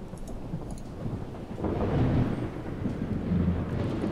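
Thunder rumbles and rain in Project Zomboid, a continuous low roar that grows louder halfway through and stays heavy to the end, with no voices.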